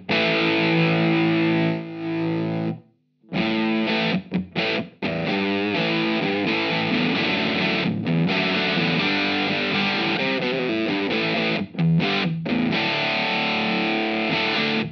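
A heavily distorted electric guitar plays sustained chords and riffs through a JHS-modified distortion pedal, thick and buzzy, with brief stops between phrases.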